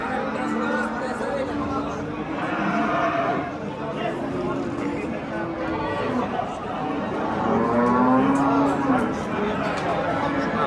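At the Oqtepa livestock market in Bulungur district, cattle low and moo among the cow rows, with a crowd murmuring and people chatting nearby, the animal calls mid-distance and partly under the talk.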